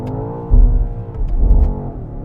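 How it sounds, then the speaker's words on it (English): A BMW XM engine revs hard toward the redline during a laggy paddle upshift, its deep, loud drone surging twice in close succession with no talk over it. "because of the lag that this transmission has when you pull the paddles, it hit the red line"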